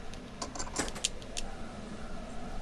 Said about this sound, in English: unlock this door